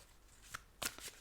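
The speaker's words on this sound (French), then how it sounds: "je vais retirer une autre carte" A card is drawn from a tarot deck, heard as faint, close flicks and a quick papery riffle in an otherwise quiet room.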